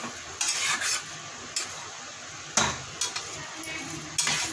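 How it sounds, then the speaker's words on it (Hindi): Mawa roasts in a pan as a spoon presses and scrapes it, giving a series of close, soft scraping strokes and light metallic taps over a faint sizzle. "अब ये थोड़ा भूनने लगेगा, मैं दिखाती हूँ आपको।"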